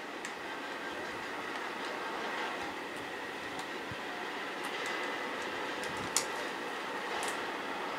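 A train rolls along steadily inside a video game, its continuous rail rumble and faint clatter running at an even level, with a single brief click near the end.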